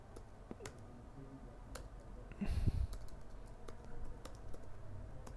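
Keystrokes on a computer keyboard while entering hping3 commands in a terminal: faint, scattered clicks and taps at an uneven pace, close by, with no talking.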